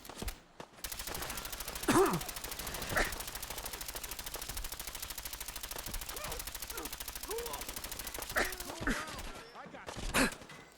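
Rapid, sustained machine-gun fire from a weapon in the video game Fallout 4 runs through most of the stretch, with a few heavier shot bursts and brief game voices over the steady rattle.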